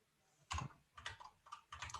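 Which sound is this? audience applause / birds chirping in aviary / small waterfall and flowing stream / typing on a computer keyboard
typing on a computer keyboard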